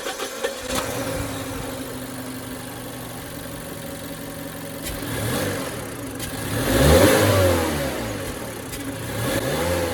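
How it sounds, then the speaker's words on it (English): A 2014 Mazda 3 with a 1.5-litre engine cranks and fires, then settles into a steady idle with a brief rise in revs, close by and without talk. "The car has this nice sounding exhaust note."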